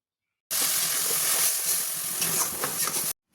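Water pours into a hot pan of borboti (yardlong bean) masala curry, a steady loud hiss and sizzle lasting about two and a half seconds before stopping abruptly, with no talk.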